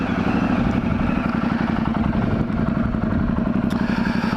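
A Multi motorcycle engine runs through a new exhaust with the catalytic converter and baffle removed, a loud, close, throbbing idle with a rough pulsing rumble and light mechanical clatter.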